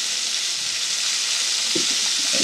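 Prawns for vindaloo fry in a hot pan, giving a steady loud sizzling hiss with a few faint stirring knocks near the end, close and without talk.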